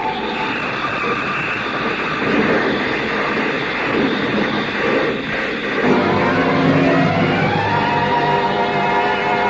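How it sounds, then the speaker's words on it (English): A radio drama sound effect of a convertible car skidding sideways across gravel plays as a loud, sustained rumbling and grinding roar that shifts tone partway through, with no speech over it. "The car skidded on gravel and slid sideways toward the cliff."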